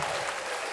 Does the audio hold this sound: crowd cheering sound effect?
yes